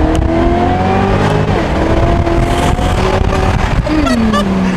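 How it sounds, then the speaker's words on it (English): A BMW E92 M3 with a V8, fitted with a supercharger rated at 650 horsepower, drives and accelerates, its loud engine rising in pitch through a gear, dropping briefly, then pulling up again from close by inside the car. "So we're gonna go for a quick little drive in this car."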